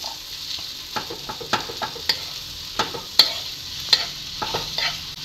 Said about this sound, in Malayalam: എന്നിട്ട് ഇതിനകത്ത് നല്ലതായിട്ട് മിക്സ് ചെയ്യുക